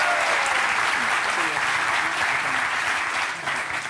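A studio audience on a French TV talk show claps loudly and steadily for four seconds, the applause dense and close and fading slightly at the end.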